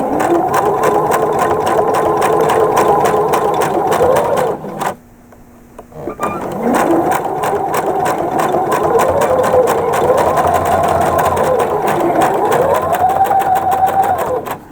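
An APQS longarm quilting machine stitches knife-edge binding with prairie points, making a loud, steady rapid needle chatter with a motor hum that rises and falls in pitch. It pauses briefly midway, then resumes.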